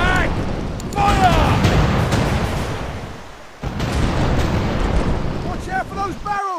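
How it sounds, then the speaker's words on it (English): Cannon fire in The Pirate: Caribbean Hunt, heavy booming blasts rolling one after another over constant sea and battle noise, loud and dense, with voices calling out in between. "They're shooting at us!"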